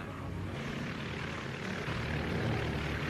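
The piston engines of a Short S.20 Mercury seaplane run up in a continuous, moderately loud droning rumble with a low, throbbing propeller beat that builds gradually, with no talking.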